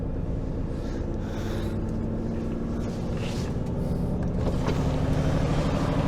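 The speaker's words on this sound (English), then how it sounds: "we need to reverse back out this straight." HGV lorry reversing slowly along a narrow straight, a steady low diesel drone heard from inside the cab with faint rattles, swelling slightly louder near the end.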